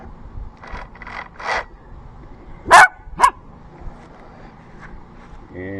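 A dog barks three times in the background, then two sharp metallic clanks ring out as a saw chain is handled at an outdoor wooden beam-making site.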